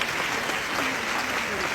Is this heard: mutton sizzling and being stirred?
no